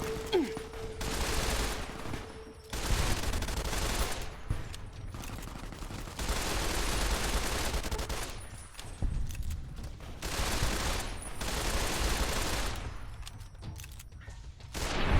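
Sustained gunfire in Fallout: New Vegas, long repeated bursts of automatic shots separated by short pauses, loud and up close with no talking.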